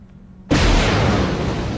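A thrown grenade detonates in a video game, a sudden loud blast after half a second of quiet, followed by a sustained roar of debris and rumble.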